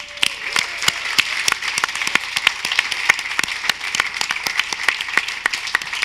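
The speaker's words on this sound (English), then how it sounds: "we should all give a very big applause to the amazing junction making of Steffi Czerny" An audience at a talk on art institutions in the digital age applauds, a dense and steady patter of many hands clapping throughout, fairly close and without speech.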